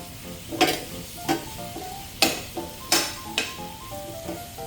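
Beef and daikon radish fry in a pan over medium heat, a steady sizzle broken by several sharp stirring scrapes and clinks of a utensil against the pan, close and fairly loud, with no talking.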